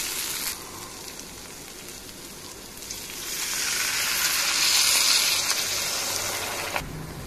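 A cooking mixture fries in oil in a pan with a steady close sizzle, swelling louder midway, with no talking.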